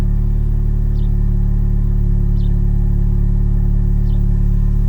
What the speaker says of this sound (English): that's too much popping